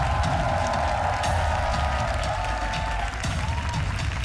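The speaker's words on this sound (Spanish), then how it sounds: "Le damos un aplauso a nuestro notario" An audience at a televised talent show finale claps and cheers together, a broad wash of applause with crowd noise that stays steady throughout.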